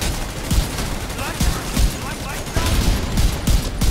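Rapid gunfire in the video game The Division 2, a dense burst of repeated shots over a continuous noisy background of game action, with people talking over it.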